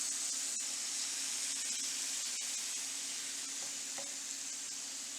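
Catfish sizzles in a hot pan with a steady, even hiss. Faint clinks and pops rise now and then above the constant frying noise.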